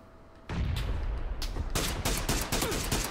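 Gunfire in the PUBG battle game, a burst of loud rapid shots starting abruptly, several sharp cracks in quick irregular succession, close and dominant with no talk.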